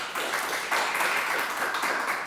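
A television quiz show's studio audience claps for a contestant, a brief dense patter of applause at moderate volume with no talk over it.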